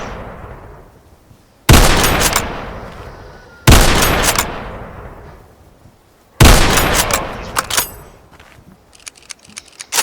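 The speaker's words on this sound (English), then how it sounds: "let me just snipe it" Three loud, separate sniper rifle shots in a WW1 video game, each with a long rumbling decay, followed by small clicking mechanical sounds.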